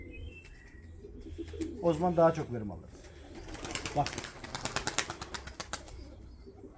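Pigeons coo and flap their wings close by in a loft where flying birds are kept, a burst of fluttering wingbeats and soft calls, with someone speaking in Turkish over them.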